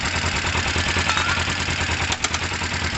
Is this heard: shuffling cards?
no